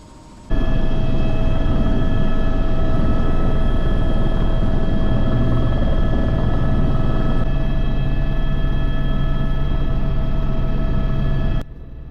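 A helicopter on a glacier tour near Skagway, Alaska, drones loudly from inside the cabin, a steady rotor and turbine hum with strong tonal whine lines holding for about eleven seconds before cutting off.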